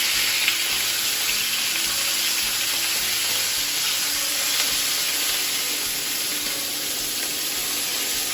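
Lamb fries in butter in a pan, giving off a steady, close sizzle and hiss that runs evenly without break.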